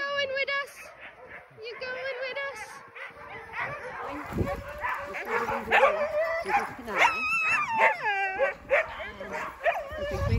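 Sled dogs at a lodge dog-sledding yard bark, yip and whimper excitedly and continuously at close range, with people talking among them.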